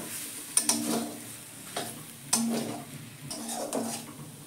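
Salt and sugar stirred into a pea and carrot filling in a pan: a few light scrapes and clinks of a spoon against the pan over a faint sizzle, quiet and close, with no talking.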